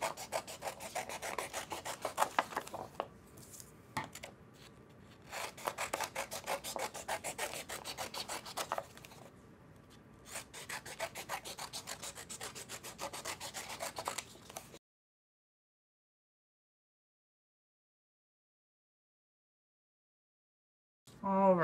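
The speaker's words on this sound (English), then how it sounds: "But now I'm going to cut all of these lines." Scissors snip steadily through strips of craft paper at close range, a dense run of quick rasping cuts with short pauses, then a long silence before a brief final rustle.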